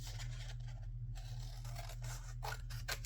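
Scissors cut paper for a handmade journaling card, giving a few short, close snips toward the end over a steady low hum.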